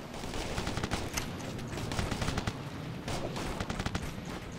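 Heavy sustained gunfire in the video game Operation Flashpoint: Red River, with dense overlapping rifle and machine-gun bursts cracking continuously over a rumbling battlefield background.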